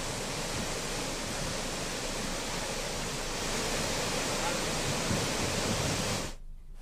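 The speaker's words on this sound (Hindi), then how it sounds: "मूसलाधार बारिश की वजह से सरस्वती नदी में उफान आ गया, जिसका पानी मंदिर परिसर में घुस आया" Floodwater from the swollen Saraswati river surges into a temple complex after torrential rain, a dense, steady roar of rushing water holding constant and loud for several seconds before cutting off abruptly.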